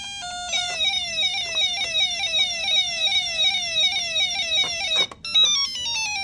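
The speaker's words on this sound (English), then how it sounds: "That woo-woo-woo-woo-woo, she was not a fan." The Pac-Man siren on a Coleco game machine warbles in fast repeating falling sweeps, steady and bright, ending with a short burst of different game beeps.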